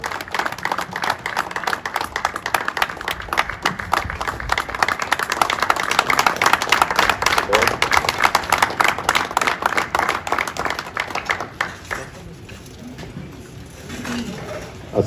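An audience at a literary gathering in Sialkot breaks into warm, sustained applause, a dense patter of many hands clapping for about twelve seconds before fading to quiet room noise.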